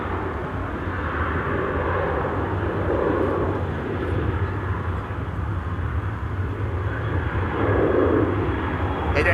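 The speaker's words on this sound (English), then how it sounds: "the next airplane is going. Let's see, this is KLM flight 1851 to Munich," A KLM Boeing 737-900 airliner departs Amsterdam Schiphol for Munich, its jet engines a sustained low roar that holds steady and swells louder toward the end.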